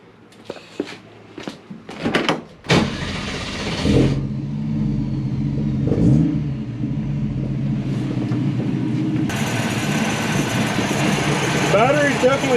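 A 1965 Ford Mustang restomod starts after a few clattering knocks, its engine catching and settling into a steady, loud idle with a rising rev near the end, while a voice talks over it.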